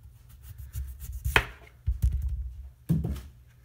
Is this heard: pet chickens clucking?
no